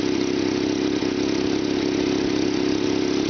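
A carbureted 1983 Toyota Hilux engine idles low and smooth with a steady, continuous drone, close and loud, with no talking over it.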